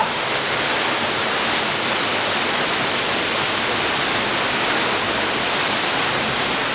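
A continuous, close roar of falling water from within the Cascata della Soffia near Lago del Mis in Sospirolo, a thick wash of sound that holds evenly loud and unbroken from start to end.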